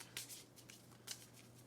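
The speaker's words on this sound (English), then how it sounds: "And then it says shuffle the encounter deck." Encounter deck of game cards for a tabletop card game being shuffled, a few soft, quick papery bursts over a low steady hum, faint and close, lasting under two seconds.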